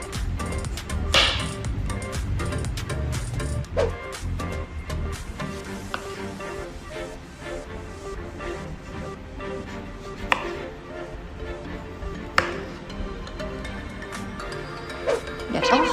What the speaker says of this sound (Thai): เราก็ค่อยๆหั่นเปลือกออกก่อนค่ะ